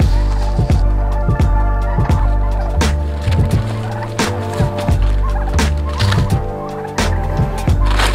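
Turkeys gobble loudly and repeatedly on a farm, a flock of close, rattling calls overlapping in quick bursts that fill the whole stretch without pause.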